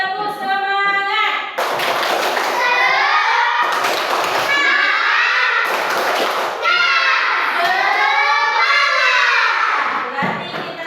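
Schoolchildren in an Indonesian classroom chant the tepuk semangat spirit cheer in loud unison, with rhythmic bursts of clapping and thumps between shouted lines, repeated in several waves.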